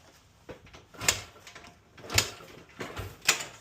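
A 2006 Honda CRF100F motorcycle engine being cranked over by hand after repair of a clicking and knocking fault, heard as three distinct mechanical clunks roughly a second apart, close up with faint lighter clatter between them.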